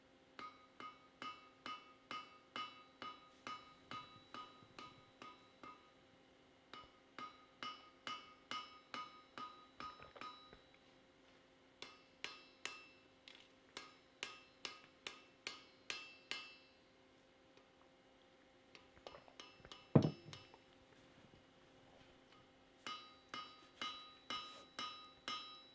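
Repeated rhythmic hammer blows ring on metal as a welded part is shaped over the anvil bick, bursts of evenly spaced ringing strikes separated by short pauses, close and clear with no talking.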